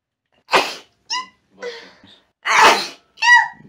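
A close, loud sneeze, then short animated squeals and breathy sounds, and a second big sneeze followed by more squeaky vocal bursts.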